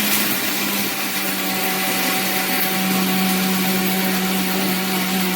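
Mixer grinder running continuously while grinding idiyappam flour at home, a loud steady motor whine with a constant tonal hum and no voices.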